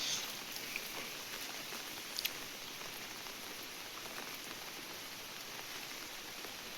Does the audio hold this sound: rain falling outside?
yes